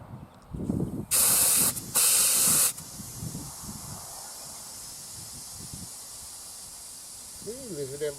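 Two loud bursts of compressed air hiss into a tire, each lasting under a second, near and sharp, with faint background noise and brief low talk before and after.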